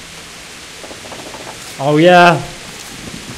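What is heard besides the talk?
rain in Kingdom Come Deliverance video game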